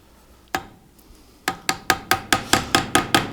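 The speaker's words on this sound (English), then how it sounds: "we're going to peen and tighten up some of these" A hammer peening a pin on a trapper slipjoint knife kit, two isolated taps followed by a quick steady run of about nine sharp metallic strikes, close and clear with no talk.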